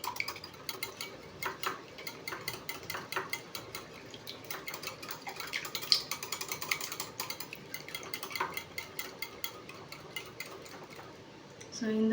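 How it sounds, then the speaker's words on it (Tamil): Eggs beaten with a beater in a bowl for Muslim-style vatlappam cake, a steady run of quick clicking, tapping strokes against the bowl throughout, fairly close and moderate in level. "ஒரு பீட்டர் வச்சு நல்லா பீட் பண்ணி எடுத்துக்கலாம்."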